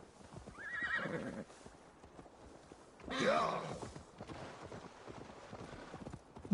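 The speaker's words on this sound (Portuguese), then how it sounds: "Deixa que eu chamo meu cavalo." A horse whinnies twice in Assassin's Creed Valhalla, a long neigh followed by a louder one, with soft hoofbeats and game background noise around them.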